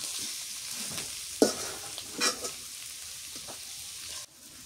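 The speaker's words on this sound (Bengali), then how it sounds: "হয়ে গেছে পটল ভাজা।" Pointed gourd (potol) frying in a pan with onion and coriander leaves, a steady soft sizzle with a few stirring clatters, heard up close with no talking.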